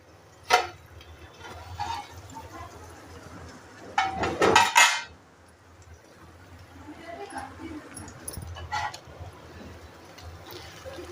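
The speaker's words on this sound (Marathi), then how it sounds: "ते बघा मी झाकण काढून घेते" A metal lid comes off a pan of cooking mango sheera with a loud, close clatter midway, set among scattered clinks of cookware and quiet kitchen background.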